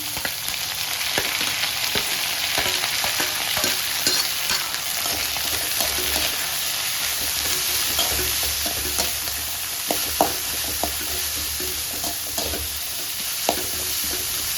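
Diced beetroot stir-fried in hot oil in a pan for a Tamil-style poriyal, giving a steady, close sizzle with scattered scraping clicks from stirring throughout, no voices.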